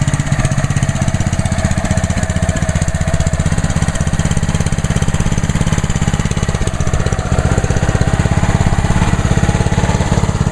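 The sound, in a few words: Ryobi 3100 PSI pressure washer engine idling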